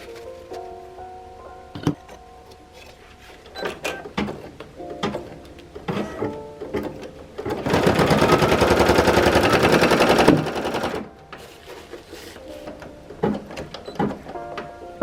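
An embroidery machine stitches an appliqué design for a pastel birthday shirt, starting with scattered clicks and knocks, then a loud, steady rapid needle hammering for a few seconds before stopping and returning to intermittent clicks.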